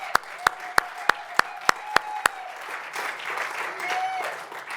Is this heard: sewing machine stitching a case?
no